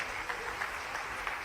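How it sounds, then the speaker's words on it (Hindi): Audience applause at an outdoor tree-planting campaign event in Indore, a steady patter of many hands clapping, faint and continuous throughout the short stretch. "आपसे आग्रह करता हूं कि जरा एक बार ताली बजाकर उनका अभिनंदन करें"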